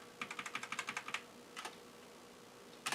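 Quick runs of key presses on an Amiga 3000 (68040) keyboard, close and clear, a fast burst of about a dozen strokes followed by a few isolated taps in near silence.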